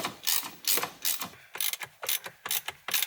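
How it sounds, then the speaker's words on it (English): Ratchet clicking in quick repeated bursts while a T30 safety Torx bit backs out steering wheel airbag bolts on an Infiniti G37, close and fairly loud with no talk. "once you get your T30 safety Torx bit, you can remove those two bolts again on the left and the right side"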